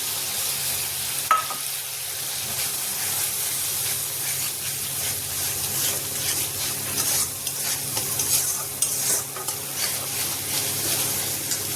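Cauliflower curry masala with kasuri methi frying and being stirred in a pan, a continuous sizzle with intermittent scraping stirs and small hissing bursts, close and fairly loud, with no voices.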